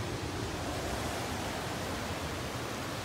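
Ocean surf rolls in against rocks on the coast near Puerto Escondido, a dense unbroken roar of crashing waves filling the air at steady loudness.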